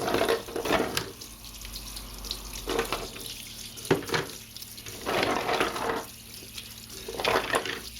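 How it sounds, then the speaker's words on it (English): Warm tap water runs into a sink to rinse washed and scrubbed plastic model kit parts for a Warlord Titan, a steady hiss broken by bursts of splashing as parts move under the stream, fairly faint, no speech. "I'm just going to rinse them with some warm water"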